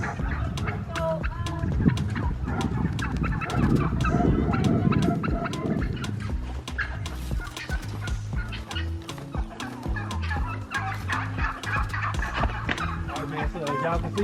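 Farm turkeys gobble and cluck together in a busy, continuous flock chorus, with other fowl calls mixed in and occasional faint voices nearby.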